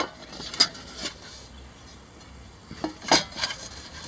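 A small titanium frying pan handled during an unboxing gives a few close, sharp metallic clinks and knocks spread over a few seconds, with quiet rubbing between them.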